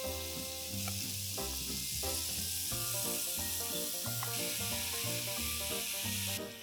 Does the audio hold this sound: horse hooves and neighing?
no